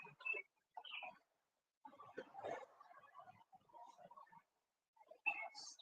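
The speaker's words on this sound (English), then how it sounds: "Listen to the birds." Faint, sparse bird calls outdoors, short chirps and clucking phrases separated by brief pauses in a quiet setting.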